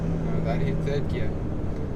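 A 2018 Audi RS3 accelerating hard through the gears, a steady loud engine roar heard from inside the car, with occupants talking over it.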